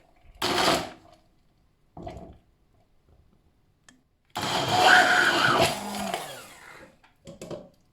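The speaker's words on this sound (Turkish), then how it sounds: "Benim o diğer evimde İstanbul'da o yüzden böyle blender kabına koydum böyle çekeceğim" A blender grinds melon seeds in short bursts, a brief pulse then a longer grinding run with a rough, crunchy texture, close by and loud.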